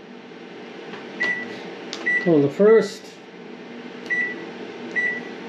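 An oven timer being set during a venison jerky bake, several short electronic beeps spaced out over a steady appliance hum, with a burst of button chirps in the middle and someone speaking briefly.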